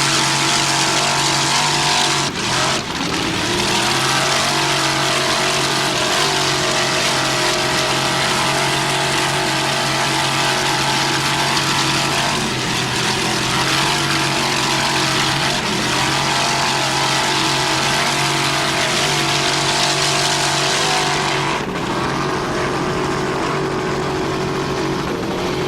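A 28-foot Mana racing powerboat with a 700 hp French Marine Racing inboard and Mercruiser drive roars loud and steady at the Key West World Championships, its engine note dipping and surging as the throttle works, with no voices over it.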